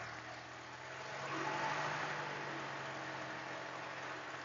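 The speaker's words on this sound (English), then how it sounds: "Now for a quick run up. We'll take the RPMs up to 1700." A light aircraft engine running up to 1700 RPM, a steady droning hum that swells slightly in loudness, then holds even and moderately distant-sounding throughout.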